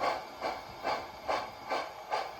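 Model locomotive pulling ahead slowly on track, producing a steady rhythmic clicking pulse roughly every half second, quiet and close with no voices.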